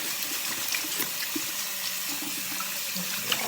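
Water runs steadily from a bathroom tap while hands are washed beneath it, a constant close hiss with faint splashes.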